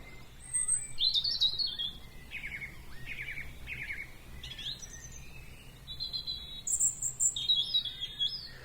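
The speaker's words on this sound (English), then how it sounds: "So there we are, the finches, a great set of birds, wonderful birds." Bright, twittering finch song in a garden: quick chirpy phrases repeated over and over against a low, steady background hum, fairly distant.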